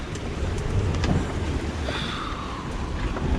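Strong wind roars steadily over a boat crossing the Bay of Biscay, with broad rumbling gusts and rushing water noise, no voices.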